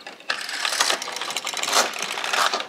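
Needles being pushed and the carriage slid along an LK150 knitting machine while shaping a hat, giving a steady run of close, dense mechanical clicks and ratcheting rattles with a few louder clacks, with no voices.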